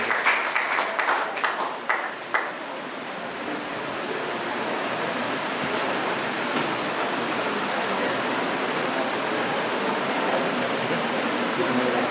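Steady, dense applause from a school audience greeting a student called to the stage at an Independence Day celebration, filling the room for several seconds after a few sharp opening claps.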